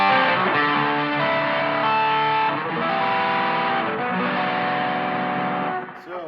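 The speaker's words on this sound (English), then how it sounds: "It thickens the tone, does give it a little bit of dirt, but it's not blaring distortion." Electric guitar played through overdrive and distortion pedals together on a church pedalboard, thick sustained chords ringing loud and alone for several seconds before trailing off at the end.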